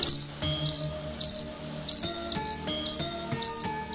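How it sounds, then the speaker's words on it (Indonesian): Two crickets give shrill, high-pitched chirping in short regular bursts, repeating steadily over a faint low background hum. "tiba-tiba muncul 2 ekor jangkrik dengan suara melengking"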